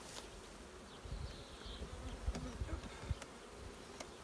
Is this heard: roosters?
no